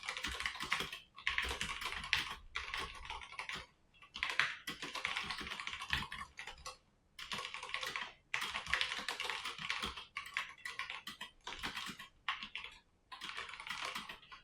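Fingers type on a computer keyboard while an Excel model for a triple net development is being set up, producing dense bursts of rapid close key clicks separated by short pauses, with no speech.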